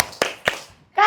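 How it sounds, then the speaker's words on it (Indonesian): A class of students claps a 'tepuk wow' pattern: two sharp, close-up claps in unison, a short pause, then voices call out together. "Kita kasih tepuk wow."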